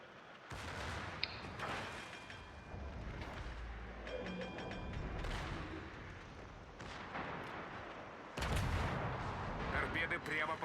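Naval gunfire from a warship battle video game featuring the battleship Oktyabrskaya Revolutsiya, with heavy booming volleys and rumbling blasts over a dense battle din, followed by a louder burst near the end and faint talk at times.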